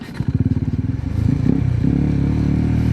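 Motorcycle pulling away in first gear at a campsite in Tanay, Rizal: a close engine thumps in fast even pulses, then rises into a steadier drone as the bike moves off.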